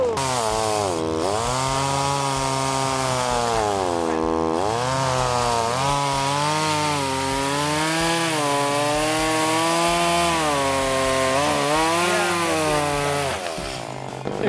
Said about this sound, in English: As you listen to the chainsaw, it says something to you.